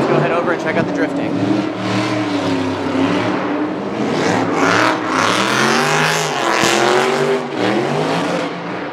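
Drift cars at the SEMA 2017 show, heard as loud, continuous engine revving and tire noise in a busy exhibition setting, with crowd chatter and voices layered over the roar throughout.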